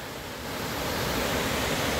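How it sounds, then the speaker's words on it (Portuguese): A waterfall in a well-preserved forest habitat, a steady roaring wash of falling water that swells slightly and then holds constant, with no voices. "Olha a cachoeira."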